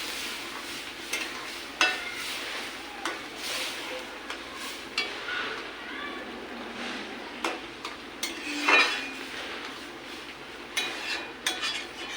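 Taro leaves (kochu shak) being stirred and cooked in a pan, a steady soft sizzle with repeated scraping stirs and occasional utensil clinks against the pan, close and continuous with no talk.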